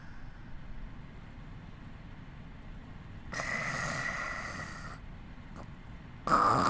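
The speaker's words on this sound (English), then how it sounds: "I hear Sumo breathing softly on one side of me, and Azuki snoring away on the other." Azuki, a sleeping character in the game Hakuchuumu no Aojashin, snores in a couple of soft, breathy bursts over a quiet low hum, fairly faint and close.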